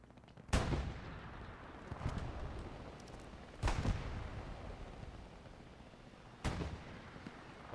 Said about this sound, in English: as Vidar on his third AT gun still shelling